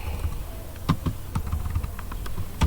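Someone types on a computer keyboard, a quick uneven run of light key taps at close range over a steady background hiss, with no talk.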